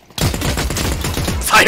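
Rapid automatic gunfire in The Cycle: Frontier video game bursts in abruptly and rattles on as a dense, loud, nearby stream of shots for over a second.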